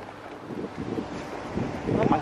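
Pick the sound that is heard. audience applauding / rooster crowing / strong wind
strong wind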